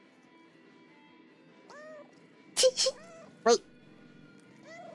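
In the video game Gori: Cuddly Carnage, a cat gives a few short, clear meows, two close together and one sharper cry, over a quiet game background, with a brief spoken word.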